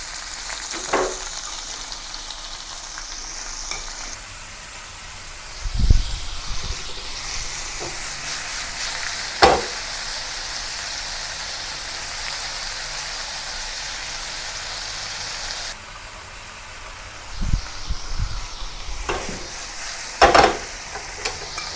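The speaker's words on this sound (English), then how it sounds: "place the prawn into the pan, single layer, and pan fried until both sides turn golden brown and the sugar caramelized" Prawns pan frying in a single layer with caramelizing sugar, giving a steady close sizzle throughout, punctuated by a few sharp clinks and knocks of utensils against the pan.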